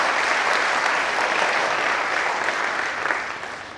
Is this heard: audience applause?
yes